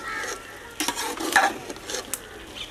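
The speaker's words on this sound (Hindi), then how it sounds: "थोड़ा सा हरा धनिया शामिल करके इसे दम पे रखने लगे हैं। धनिया शामिल करने के बाद भी थोड़ा सा मिक्स कर लेंगे।" Pulao with potatoes, mixed vegetables and fresh green coriander being stirred in a pot, giving soft scraping and rice-shuffling sounds over a light sizzle, with a few clearer stirring strokes partway through and no talking.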